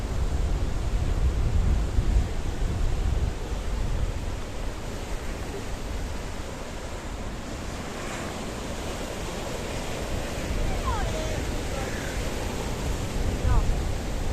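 Strong evening wind at Paphos harbour in Cyprus roars steadily and loudly throughout, mixed with the wash of surf and buffeting against the microphone.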